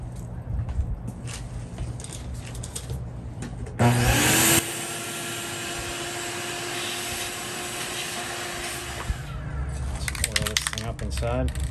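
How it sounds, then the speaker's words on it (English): A vacuum cleaner sucking dust out of a vintage metal-bodied Milwaukee circular saw, a steady whirring drone running for several seconds with a sharp louder burst near the start, no talk over it. "let's vacuum out all that"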